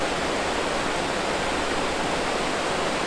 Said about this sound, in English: I really like all the rushing water over the rocks and everything.